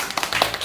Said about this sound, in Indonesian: tepuk tangan dulu buat Ariel